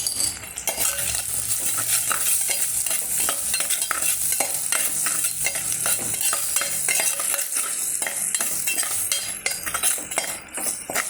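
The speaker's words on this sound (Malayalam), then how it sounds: "നമ്മളിതൊന്ന് നന്നായിട്ട് വഴണ്ട് വരട്ടെ" Onions sauté for onion rice in a pan, a steady loud sizzle with a spoon stirring and clinking against the metal throughout, no talking.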